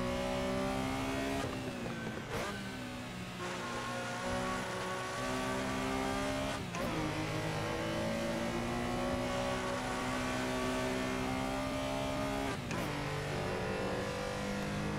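A Porsche Carrera RSR races in Assetto Corsa, its engine revving loud and steady, climbing through the gears with sharp drops at each shift over about fifteen seconds.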